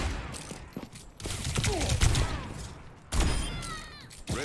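Gunfire in the video game Overwatch, heard in close bursts after a grenade sticks. Sharp shots and whooshing effects come in two clusters, with a short lull between them.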